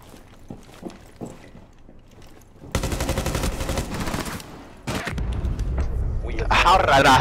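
Rapid bursts of gunfire from a first-person shooter game, sounding loud and dense for several seconds with short pauses, while players talk over it.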